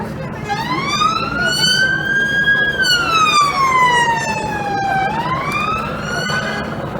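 A fire engine siren wails on a slow rising and falling sweep with strong harmonics, loud and fairly close, steady for the whole stretch over a rumbling street background, with speech faintly mixed in.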